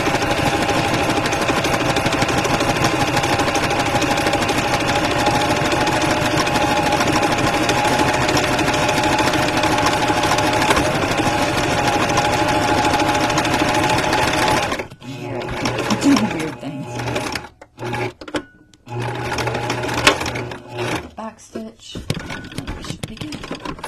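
A sewing machine stitches pages of a journal, its needle hammering in a loud, even, continuous whir for about fifteen seconds before stopping, followed by short stop-start bursts of stitching and handling noise.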